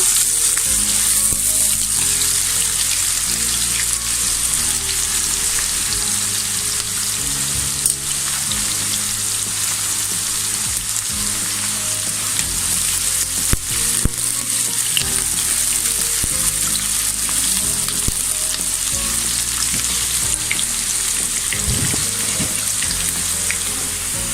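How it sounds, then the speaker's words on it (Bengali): Chopped onion frying until browned for beef haleem produces a loud, dense, continuous sizzle that holds steady throughout, close up with faint low background hum and no speech. "পেঁয়াজ কুচিটাকে আমি লাল লাল করে ভেজে নেব।"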